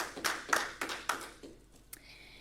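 Sparse, scattered claps from a small awards audience at the 2020 New Hampshire Press Association journalism presentation, a few distinct hand claps at close range that thin out and fade within seconds.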